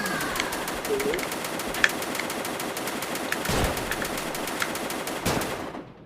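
Gunfire in a Roblox military war game rattles as a steady series of sharp, evenly spaced shots at moderate distance, with soft cooing bird-like sounds in the background.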